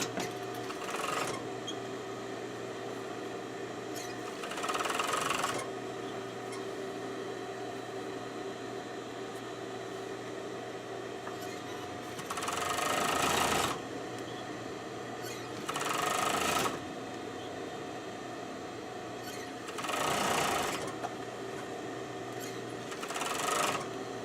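A sewing machine stitches feet onto a stuffed animal, its motor whirring in several steady bursts of a few seconds each, separated by quieter pauses with a low hum, close by and without speech.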